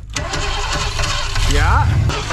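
A Ford 7.3 IDI diesel cranks and fires, settling into a loud, rough clattering idle with a brief rising rev, all close up and continuous throughout.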